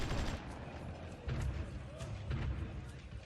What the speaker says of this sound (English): we're being bombarded from both sides